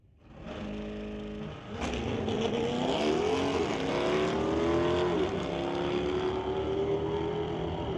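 A 2006 Corvette launches and roars down a drag strip in a street-legal race, its engine note rising steadily through the gears, loud and close, with no talking.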